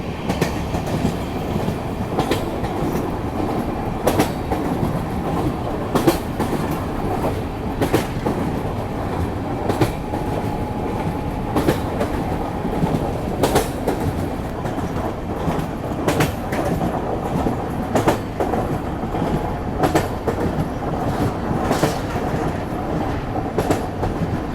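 A passenger train crosses the JP Setu rail-cum-road bridge in Bihar, with a steady, loud rumble of wheels and repeated clickety-clack rail-joint clicks running continuously, no voices present.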